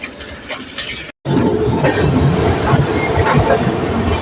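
The Haldia Superfast Express pulls away from a station, a loud, close rumble of rails and wagons with a rhythmic clickety-clack. The noise drops out briefly near the start and then carries on steadily.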